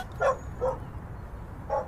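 Three short, high dog yelps or whimpers from a video game sound in quick succession over a faint low background hum.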